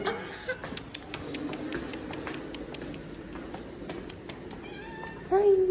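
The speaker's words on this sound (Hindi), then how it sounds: "इतनी पढ़ी लिखी बिल्ली है, ये लाइब्रेरी में रह रही है।" A cat meows repeatedly inside a university library, a string of close, rising and falling cries with a couple of sharp clicks among them, and a person's voice briefly at the end.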